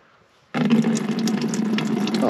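A mix of water, rust penetrant and oil drains from a Fordson Super Major tractor during preparation for engine removal. It starts suddenly as a steady, splashing gush close by, with no talk over it.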